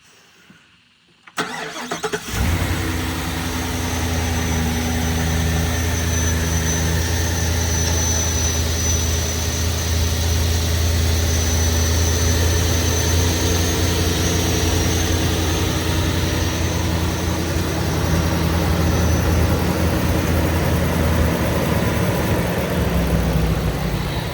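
A 2024 Ford F-250 XLT with the 7.3-liter cast-iron block engine cranks, starts, and settles into a steady, deep idle that rumbles on loud and close for a long stretch.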